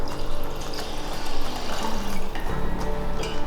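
Water pours steadily into a cooking pot of rice and other ingredients for Japanese rice, a continuous close splashing rush without talk.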